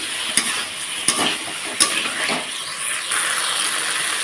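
A spice paste is sautéed with pre-fried soybean chunks in a pan, giving a constant sizzle broken by sharp scraping stirs of a spatula against the metal.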